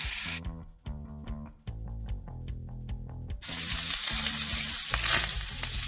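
Ham slices sear in a hot frying pan, a steady sizzle that swells louder and hissier in the second half, with faint repeated clicks in the first half and no talking.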